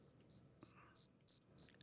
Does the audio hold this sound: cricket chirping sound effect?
yes